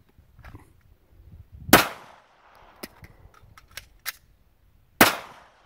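Pistol shots ring out during a firing drill on a range, two loud sharp cracks about three seconds apart, with fainter clicks and clatter between them and no speech.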